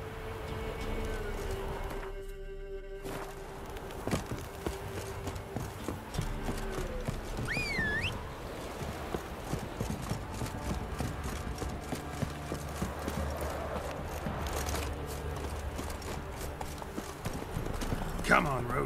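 Hoofbeats of Roach, Geralt's horse in The Witcher 3: Wild Hunt, clip-clop steadily through most of the stretch, mixed with game ambience, a brief whinny and a voice speaking over them.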